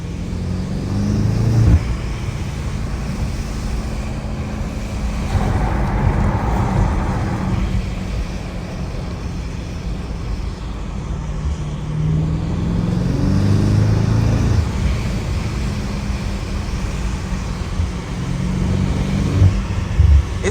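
A BMW M8 Competition drives in four-wheel drive, its engine a loud steady rumble from inside the car with rising and falling revs, no talk.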